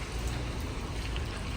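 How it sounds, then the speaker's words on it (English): Light rain falls steadily outdoors on an airport car rental lot, a soft continuous patter and hiss with no voices. "It's still kind of raining a little bit."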